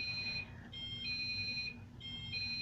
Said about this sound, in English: My alarm's steady going off.